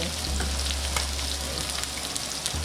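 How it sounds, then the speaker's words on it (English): Potatoes frying in a pan sizzle steadily while being stirred, a dense crackling hiss close by with scattered scraping ticks of the utensil, no voices over it. "I'm going to go ahead and stir those potatoes around right quick"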